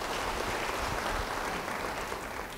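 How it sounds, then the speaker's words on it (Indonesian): A church congregation claps together in a sustained burst of applause, a dense even patter that holds steady and fades slightly at the end, with no voices over it. "Yang percaya, beri tepuk tangan bagi dia."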